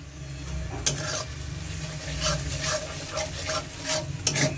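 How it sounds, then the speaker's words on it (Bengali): Ginger paste and sugar frying in a pan for rohu fish kalia, a continuous low sizzle broken by repeated scraping and stirring strokes of a spatula against the metal. "আর একটু ভালো করে কষিয়ে নেব"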